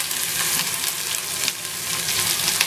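Thinly sliced onions fry in hot oil for tomato rice, giving a continuous loud hiss and crackle with faint stirring, and no voices.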